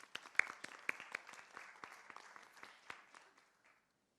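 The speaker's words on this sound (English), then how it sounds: "Let's give them a big round of applause." Scattered applause from a conference audience honoring student presenters, a modest group clapping with distinct individual claps that taper off to silence.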